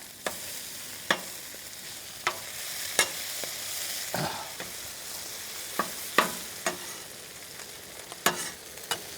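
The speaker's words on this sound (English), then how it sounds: "Okay, let's Flip the chorizo over. Oh, it's getting nice. Let's stir the beans. Heat up the bacon. Time to flip the hash browns." Chorizo, bacon and hash browns sizzling on a griddle, a constant hiss of frying fat broken by sharp spatula taps and scrapes every second or so, nearby with no voices.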